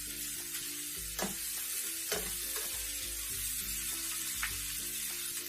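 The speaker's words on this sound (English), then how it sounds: "they're starting to get that nice glossy, you know, when they say that they pearlize, the onions pearlize, and we want to take it a step further and brown them" Onions browning in a pan for Cuban vaca frita, a constant loud sizzle with a few soft stirring scrapes over it and no talk.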